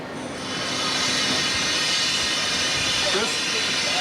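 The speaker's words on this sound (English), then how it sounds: "The train to Flom." Steam hisses steadily and loudly around a train bound for Flåm in Norway, a continuous broadband rush that swells in and holds, with a few faint voices underneath.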